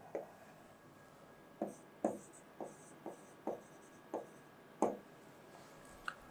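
Chalk or marker strokes on a board while writing numbers in a physics lesson, about eight short scratchy taps and strokes in an irregular rhythm, close and fairly quiet with no talking.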